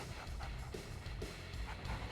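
Several rapid, overlapping barks from attack dogs in Red Alert 2: Yuri's Revenge, sharp and close, layered over a constant dense background of in-game combat sound.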